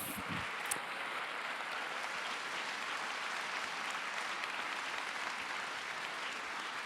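An audience at an awards ceremony for the 2019 laureates of a craftsmanship prize applauds in a dense, even roar of clapping, steady throughout.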